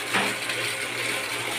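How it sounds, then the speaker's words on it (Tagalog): Strong water gushing from a PVC pipe after a pump leather cup replacement, a continuous loud rushing hiss with a low pump hum underneath. "Ang lakas ng tubig talaga dito."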